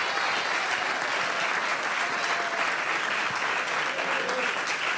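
An audience at a live choro concert claps steadily for several seconds, a dense, even wash of applause from many hands with no voices standing out.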